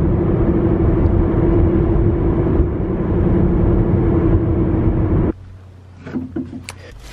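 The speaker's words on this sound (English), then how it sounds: "We had our studded Nokian winter tires put on." Studded Nokian winter tires roar steadily on the road from inside a moving car, loud and continuous, then cut off abruptly into quiet cabin noise with faint clicks.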